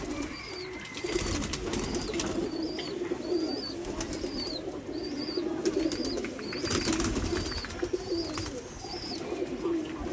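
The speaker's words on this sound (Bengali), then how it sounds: "এই যে নর কবুতরটা দেখুন" Repeated soft coos of Giribaz pigeons at a steady pace over a constant low hum and background noise, with no one talking.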